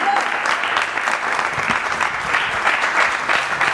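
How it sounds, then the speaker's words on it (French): A studio audience on a French TV show applauds loudly and steadily for a couple seated in front, a dense wash of clapping close by with no break. "Applaudissez-les bien fort, ils sont devant."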